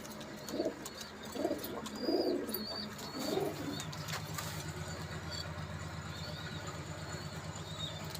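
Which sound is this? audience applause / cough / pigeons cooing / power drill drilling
pigeons cooing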